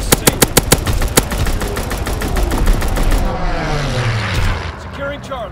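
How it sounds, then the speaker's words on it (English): Rapid bursts of WW2 aircraft machine-gun fire open a strafing run in a war video game, sharp regular shots at first, then a dense roar of gunfire and engine noise with a voice speaking over it. "Strafing the target."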